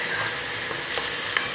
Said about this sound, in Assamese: পিঁয়াজ নহৰু যিটো পেষ্ট বনাই থৈছিলোঁ সেই পেষ্টটো দি বহু সময় একেবাৰে কম জুইত ভাজি আছোঁ